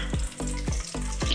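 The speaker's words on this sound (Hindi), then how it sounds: "ये देखिए हल्का सा फ्राई हमने कर लिया हरी मिर्चों को भी।" Green chillies fry lightly in a pan for an aloo palak dish, giving a soft, close sizzle broken by repeated stirring pulses, with no voices.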